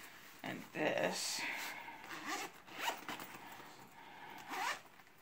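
A zipper on a pencil case is drawn open in several quick, close rasping pulls, with short pauses between them and faint room sound.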